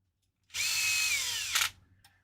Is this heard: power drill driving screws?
yes